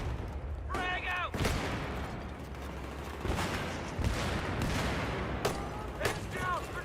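A frag grenade goes off amid the gunfire and combat noise of Battlefield 3 on PS3, with dense rumbling blasts, several sharp bangs and bursts of shots, and brief chirping game sounds in between.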